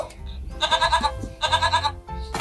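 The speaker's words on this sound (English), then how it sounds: "Goat." Goat bleating twice in close succession, each a loud wavering nasal cry lasting about half a second, heard close and clear in a quiet indoor space.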